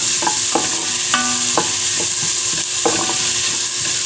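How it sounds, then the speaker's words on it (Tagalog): A utensil scrapes and clanks repeatedly in a tall cooking pot as pork dinuguan is stirred, the sharp knocks spaced irregularly over a constant bright sizzle. "Nahihirapan po ako maghalo dito."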